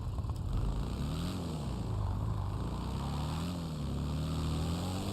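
An airplane propeller engine in GTA Online gives off a steady droning hum with a slowly wavering pitch, continuous and fairly faint, with no talk over it.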